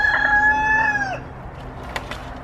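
A rooster in a garden crows once loudly and close, the call cutting off after about a second, followed by a few scattered clucks from chickens.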